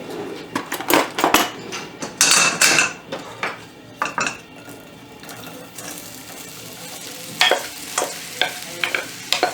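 Onions sautéing in a little olive oil in a hot wok, with repeated scraping and stirring strokes of a utensil against the pan over a steady low sizzle, close and fairly loud, no talking.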